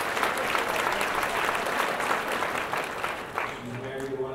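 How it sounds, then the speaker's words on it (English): An audience at a Mille Lacs Band of Ojibwe State of the Band gathering gives loud, sustained applause that begins to fade near the end as a voice starts speaking. "Give her a round of applause."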